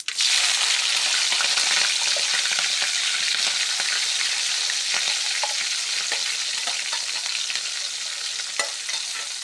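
Chopped green chillies fry loudly with mustard seeds that have already popped, making a dense, continuous sizzle with stirring through the whole stretch. It is the tempering for a Kerala-style jackfruit seed pickle.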